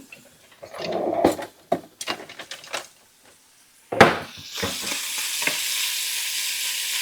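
Bacon frying in a pan: a few clattering stirs and scrapes, then a steady, close hiss of sizzling fat that carries on to the end.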